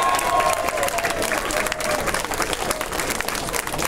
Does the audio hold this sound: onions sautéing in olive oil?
no